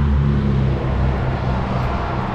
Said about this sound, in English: Traffic is quite loud.